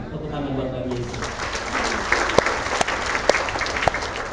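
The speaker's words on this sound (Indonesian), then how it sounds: "Tepuk tangan buat Bagi Yesus." During a sermon, a voice trails off and a church congregation breaks into applause, dense clapping with several sharp, distinct claps ringing out over the crowd.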